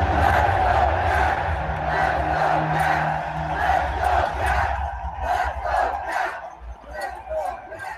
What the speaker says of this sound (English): the cheering is kind of drowning out the music